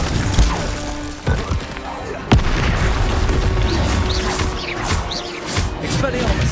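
A Confringo spell explosion in the video game Hogwarts Legacy: a sharp booming blast amid dense, continuous combat noise and crackling effects, loud and close.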